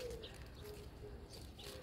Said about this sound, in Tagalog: Narinig nyo yung yung mga ibon.